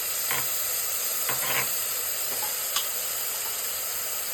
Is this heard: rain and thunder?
no